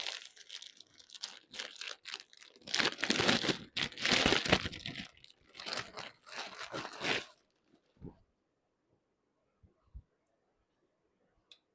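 Crinkly plastic packaging on a cotton kurti combo pack is torn and crumpled open up close in a busy stretch of rustling, ending in a few soft taps and near silence.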